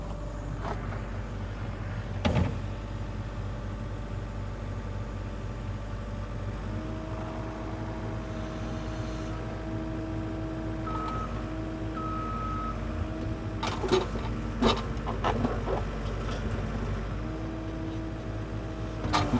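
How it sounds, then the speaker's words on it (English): A skid steer loader's engine drones steadily at close range, with intermittent reversing beeps and a few clanks and knocks cutting through the continuous motor noise. "I gotta get this skid steer out to get over here"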